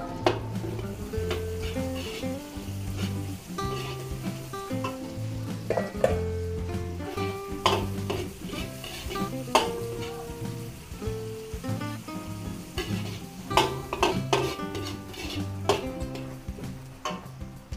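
Onion and garlic sautéing in a pan, a continuous crackling sizzle with frequent stirring clanks and scrapes throughout, close and fairly loud; a melodic tonal layer, likely background music, runs underneath.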